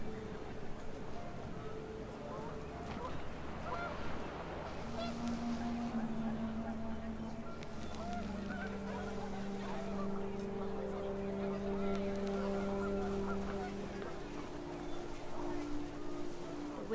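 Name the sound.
panicked geese honking in the video game What Remains of Edith Finch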